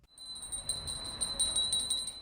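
Small bells jingle with a bright, steady ringing at a village's annual It's a Wonderful Life celebration along Fall Street, a continuous tinkling that rises and falls in gentle pulses, faint and fairly distant.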